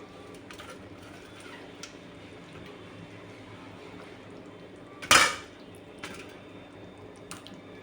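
Fish curry with raw mango stirred in a pot, with soft background scraping and one sharp metallic clank of a spoon against the vessel, plus a few lighter taps.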